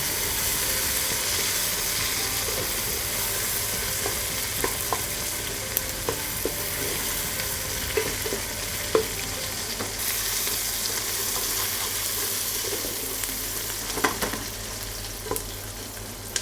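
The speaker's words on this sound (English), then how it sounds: "We really want the onions to sweat and brown properly" Onions frying in a pan for a chicken drumstick curry, a steady crackling sizzle with scattered pops and occasional scraping clinks as they are stirred, close and continuous with no voices.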